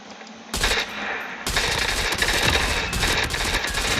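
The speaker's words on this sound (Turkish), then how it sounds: "Evet bak şurada bir çatışma dönüyor" Close, loud automatic gunfire in a Call of Duty Mobile battle royale firefight, with sustained rapid bursts of rifle and machine-gun shots starting abruptly after a quiet moment and continuing without pause.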